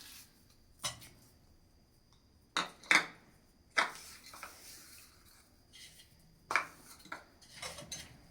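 Spoon knocking and scraping against a pot while jaggery is stirred into traditional wheat kheer, with a few sharp, spaced clinks and quieter scrapes between them. No one speaks.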